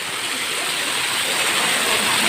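A waterfall at Wat Nam Tok Tham Bon Charoen Tham in Ubon Ratchathani roars in a dense, steady broadband rush, close and loud throughout.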